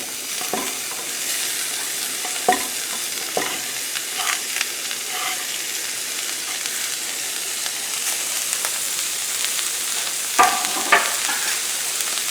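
Onions, caraway seeds, garlic and capers frying in butter in a pan, a constant bright sizzle with occasional scraping stir strokes, close and loud with no talk.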